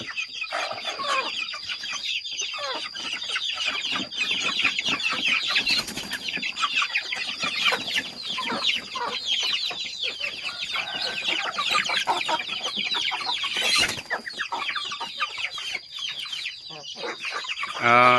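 Young chickens and adult roosters and hens in a farmyard cluck and chatter continuously, a dense, close chorus of overlapping clucks and cheeps with occasional wing flaps.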